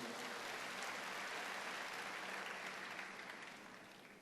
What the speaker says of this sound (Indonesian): Kalau mau kasih tepuk tanganlah buat Tuhan.